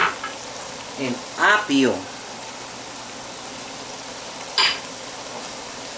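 Carrots, peppers and celery sizzle steadily in a pan for a turkey stuffing, a constant frying hiss under brief stretches of Spanish-speaking voice and a couple of quick clinks.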